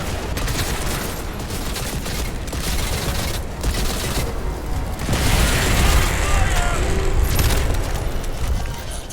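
Sustained gunfire and distant booms fill a Crysis 2 battle, dense and loud throughout, with a voice calling out over the din.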